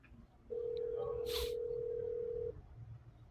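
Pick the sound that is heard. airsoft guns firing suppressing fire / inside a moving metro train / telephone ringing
telephone ringing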